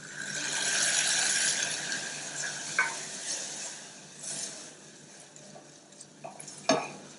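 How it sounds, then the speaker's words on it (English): Balsamic vinegar sizzles and reduces in a hot pan while being stirred, a steady soft hiss broken by occasional scrapes and clinks of the utensil against the pan. "Just cook off that vinegar a little bit."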